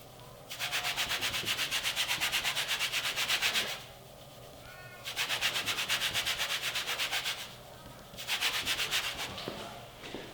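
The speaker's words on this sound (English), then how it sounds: "Listen to my hand while I move it across the paint." A hand rubs back and forth across contaminated, unclayed car paint, making three close, quiet bursts of rough, gritty scraping with short pauses between them, and nobody talks.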